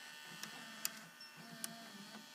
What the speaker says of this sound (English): Pulls the tape inside and threads it along video heads and stuff.